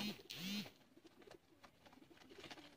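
Sialkoti pigeon held in the hand gives a close, clear cooing call near the start, followed by softer, scattered coos and faint bird sounds.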